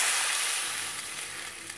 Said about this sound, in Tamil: கறி தண்ணியை அதில் ஊற்றிடலாம்.